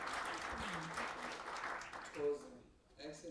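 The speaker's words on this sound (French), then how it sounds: "nos sympathiques panélistes que l'on peut applaudir" Conference audience applauding the panelists, a moderate wash of clapping that fades out near the end as voices and other sounds take over.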